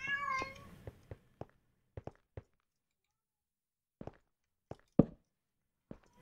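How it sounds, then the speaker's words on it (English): A cat gives one clear, close meow at the start, then falls quiet while a series of soft, scattered taps and light footfalls follows in a hushed room. "stop distracting me, kitty cat"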